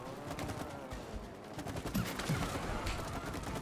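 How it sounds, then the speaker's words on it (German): In the co-op video game It Takes Two, a player fires continuously at a boss's belly, a dense, steady stream of rapid gunshots layered with game effects, sustained at an even loudness throughout. "Okay, ich schieße wieder auf den Bauch."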